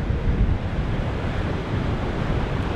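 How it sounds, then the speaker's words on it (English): Strong wind buffets the microphone on the Oregon coast near a river bar, a steady broadband roar with ocean surf churning underneath, loud and continuous with no voices. "even though it's very windy today"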